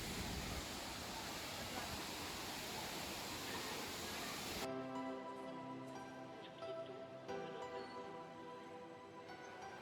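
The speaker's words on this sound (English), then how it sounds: "Can you hear the sound of waterfall here?" Waterfall on a road trip, a steady broadband rushing roar filling the first half, then cutting to a quieter scene with tonal hum and faint background sounds.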